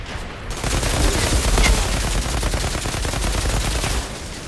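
Gunfire in the video game Outriders: a loud, sustained burst of rapid automatic shots that rattles without a break for about three and a half seconds, close and dominant.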